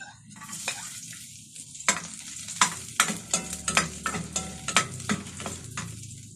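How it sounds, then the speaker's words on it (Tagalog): Meat sautéed in a hot pan as a base for a bone-broth stew, a hissing sizzle broken by a run of sharp spatula knocks and scrapes, close and without voices. "Gisa na natin yung ating karne."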